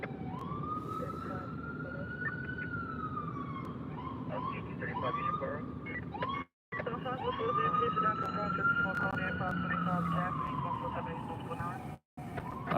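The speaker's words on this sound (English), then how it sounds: "And we got an ambulance right here." An ambulance siren wails on a Harlem street at night, its long rising and falling sweeps fairly close over traffic rumble and crowd noise, with two brief dropouts in the sound.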